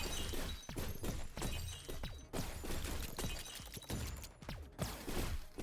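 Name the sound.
shatter sound effect in a space video game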